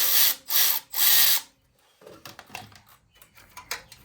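A power tool loosens a 5/16 exhaust clamp on a Harley-Davidson Road Glide in three loud, steady bursts, followed by quieter clicks and rattles of metal parts being handled.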